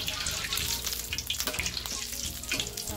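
Dried chilies deep-frying in hot oil for a crispy snack, a dense, constant crackling bubble with busy popping throughout, close and loud, with no talking.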